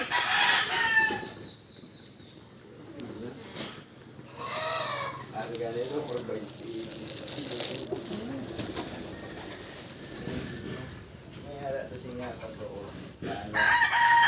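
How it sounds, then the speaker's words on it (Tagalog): Chickens and pigeons being fed, with clucking, cooing and a rooster crowing nearby while people talk in the background. "si Jopod gapakaon sa iyang manok"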